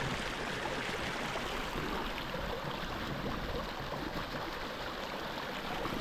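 A flowing stream in a forest, a steady broadband rush and trickle of water running continuously without pause, close and moderately loud.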